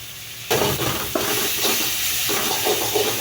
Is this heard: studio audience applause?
no